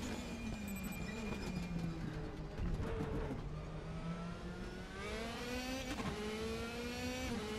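A race car engine in the Raceroom VR racing game drones and shifts pitch, rising and falling as it accelerates, then climbs sharply and touches the rev limiter. The engine sound is continuous and steady in loudness, with no voices.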